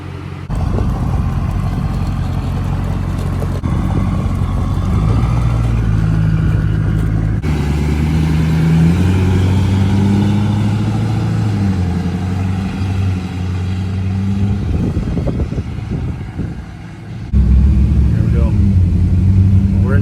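A Duramax diesel truck pulls out of a garage on a test drive. Its steady engine drone runs loud and close throughout, rising and falling with throttle, while people talk over it.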